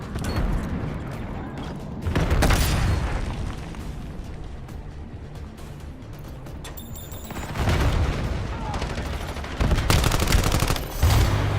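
MPC-25 submachine gun fire in Call of Duty, rapid bursts of gunfire with booming impacts amid a dense, noisy battle mix.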